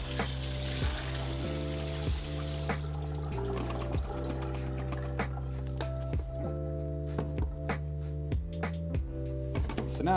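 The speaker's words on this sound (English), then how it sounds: "I'm going to dump the remaining water out." Water poured out of a film developing tank after a development run, a brief rushing splash at the start giving way to quieter trickles and drips, with a steady low hum running underneath.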